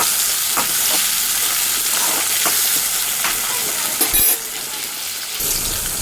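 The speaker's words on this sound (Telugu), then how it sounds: "ఇది కూడా చిన్న ముక్కలుగా కట్ చేసుకొని బాగా వేగనివ్వాలి." Chopped tomato pieces sizzle steadily in a hot pan while an egg curry is being cooked, with a continuous loud fry and occasional stirring scrapes up close.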